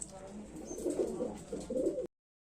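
Several small pigeons for sale coo in low, throaty bursts close by, swelling and fading over a quiet background before the sound cuts off abruptly.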